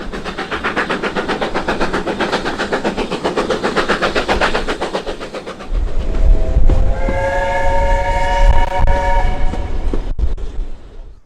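A train on the English coast line toward Dartmouth rumbles past with rhythmic clattering wheels, then a loud, near horn sounds for several seconds as the train noise continues.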